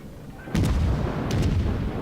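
Heavy 8-inch naval guns of a Pensacola cruiser fire in a World of Warships battle, a sudden loud booming salvo followed by a second rumbling volley, with no talk over it.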